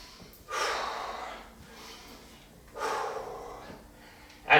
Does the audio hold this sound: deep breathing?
yes